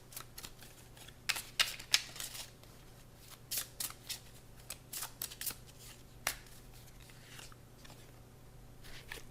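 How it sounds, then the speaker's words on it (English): Cards from a Shamanic Oracle deck being shuffled and drawn, with quick crisp papery riffles and flicks in short bursts, close and fairly quiet, then a softer stretch toward the end. "Let's get a confirmation card from the Shamanic Oracle deck for Scorpio."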